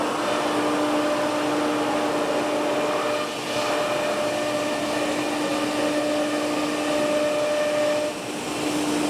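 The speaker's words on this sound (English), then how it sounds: "As it's cutting, we got an air suction dust collection hooking up to it." An automated shop cutting machine runs with an air suction dust collector hooked up, giving a continuous loud whooshing drone with a steady hum, almost unbroken apart from two brief dips.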